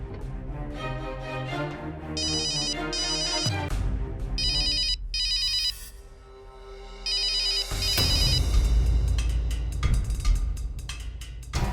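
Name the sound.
phone ringing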